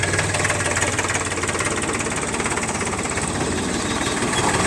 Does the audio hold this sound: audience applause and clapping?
no